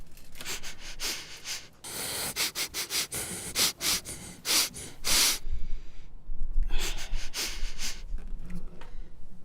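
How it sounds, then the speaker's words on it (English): Close, repeated sniffs at the sound hole of a Martin acoustic guitar, short bursts of breathy noise in an uneven rhythm, followed by longer breathing and rustling near the microphone. "I do sniff the sound hole."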